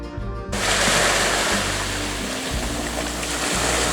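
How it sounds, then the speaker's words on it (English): Rushing water at Wadi Shab in Oman, a loud, dense and continuous wash of flow that swells in after a brief quieter opening and stays close and unbroken. "You can hear the sound of the water."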